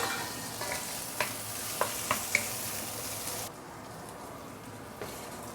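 Roasted meat tossed into mustard greens in a hot pan sizzles and crackles steadily, with a few sharp utensil clinks as it is stirred, before the frying dies down to a softer hiss.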